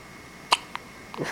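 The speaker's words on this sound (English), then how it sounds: "Sneezing and the hiccups." A baby's single short hiccup pops out close and clear, followed by a fainter catch and a soft breathy sound.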